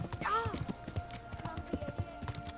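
Horse hooves clip-clop at a steady walking rhythm in the medieval video game Kingdom Come: Deliverance, close and moderately loud, with a brief whinny-like tone near the start and someone talking over it.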